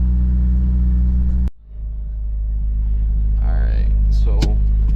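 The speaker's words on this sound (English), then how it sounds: "So I'm gonna let the car warm up," An Acura RSX Type S idles while warming up, giving a steady deep engine rumble. A brief cut breaks it before the low drone settles back in. Faint voice-like sounds come in near the end.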